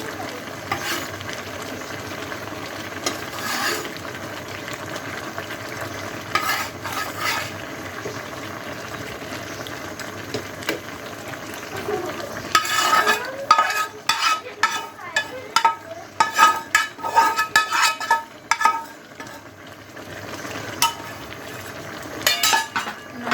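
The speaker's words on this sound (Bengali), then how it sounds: "এবার আগের থেকে ভেজে রাখা মাছগুলো এখন দিয়ে দিচ্ছি" Pre-fried fish is added to Malabar spinach curry and stirred in a pan, a steady sizzle at first, then a burst of busy clinks and scrapes of utensil against pan in the second half, fairly loud and close.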